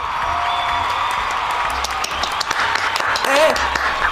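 A studio audience at a French game show applauds and cheers as comedian Jenny Letellier is welcomed, a loud, continuous wash of clapping with scattered whoops that carries on throughout.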